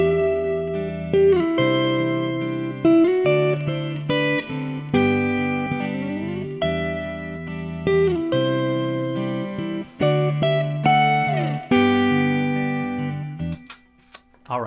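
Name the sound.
guitar playing 1-6-4-5 chord progression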